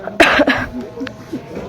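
A woman coughs a few times in quick succession, close and moderately loud, with faint voice-like sounds and background noise following.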